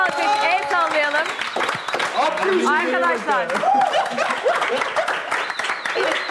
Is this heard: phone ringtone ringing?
no